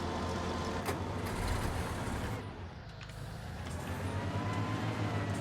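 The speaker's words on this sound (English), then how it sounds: "that engine sounds like it's struggling" A heavy tractor engine in Farming Simulator 19 drones and rumbles continuously, a deep, strained, labouring roar that dips briefly midway before building again.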